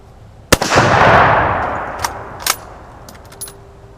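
A single loud rifle shot from a sporterized Mosin Nagant Type 53 fired at rocks outdoors, with a sharp crack followed by a long rolling echo that fades, then a few faint clicks and taps.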